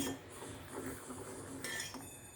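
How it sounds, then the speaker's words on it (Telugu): A spoon stirs custard milk in a pot, giving soft, close metallic clinks and scrapes over a faint background hiss. "బాగా మిక్స్ చేస్తూ ఉండాలండి స్పూన్ సహాయంతో"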